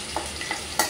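Ingredients sauté in hot oil for a rajma masala, with three quick stirring scrapes over a steady sizzle, close and fairly loud, and no talking.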